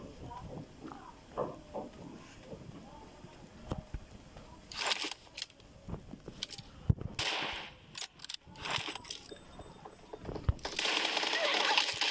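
Gunfire in the mobile game PUBG Mobile, heard as scattered sharp shot bursts and clusters of cracks at moderate level, with a voice talking intermittently between them.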